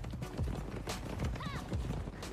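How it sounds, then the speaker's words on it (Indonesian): Horses galloping during a chase scene in the 2013 action film Angel Warriors, hoofbeats in a quick rhythm with a brief whinny, mixed under narration and film sound. "Mereka pun mengejarnya menggunakan kuda."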